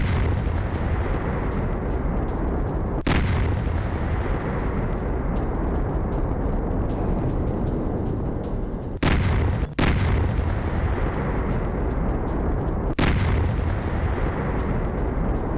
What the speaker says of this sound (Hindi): रूस ने खार्किव पर आर्टिलरी से किया अटैक।